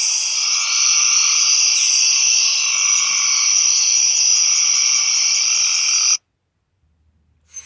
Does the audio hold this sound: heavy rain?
no